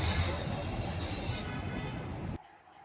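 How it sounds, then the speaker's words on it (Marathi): Two trains rumble past each other close by on a bridge in Pune, with a steady high metallic wheel squeal, then the noise cuts off abruptly near the end. "दोन्ही ट्रेन एकमेकाला क्रॉस करताना या ठिकाणचं चित्र आपल्याला बघायला मिळतं"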